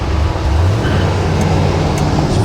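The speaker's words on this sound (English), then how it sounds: "The engine sounds good though." A 1956 Chevy Nomad's 265 V8 with a five-speed Tremec cruises in second gear through heavy traffic, a steady low engine drone close by and alone with no talk.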